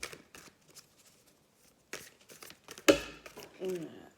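Tarot cards being drawn and shuffled by hand, scattered soft flicks and papery slides with pauses between, then a sharper snap of a card, and a voice speaking briefly near the end.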